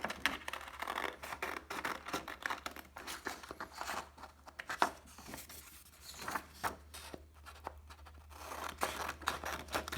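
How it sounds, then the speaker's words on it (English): Scissors snip and the paper crinkles while a paper mug drawing is cut out, making a quiet, close, irregular run of small cutting and rustling sounds that continues throughout. "And I want you to cut out the mug carefully."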